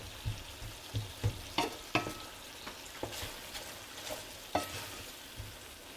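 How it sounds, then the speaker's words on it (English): Shahi paneer sauce cooking down in a pan, a low steady bubbling sizzle with scattered stirring scrapes and utensil taps, quiet and without speech. "So our sauce is cooking up really well."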